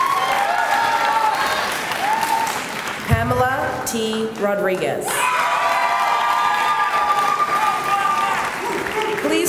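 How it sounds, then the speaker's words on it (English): Applause at a 2011 Heinz College diploma and awards ceremony, a dense, steady wash of clapping from a large audience with scattered cheers lasting throughout, with a brief announcing voice in the middle. "Please join me in a round of applause for the graduates of the Master of Science in Public Policy and Management, D.C. track."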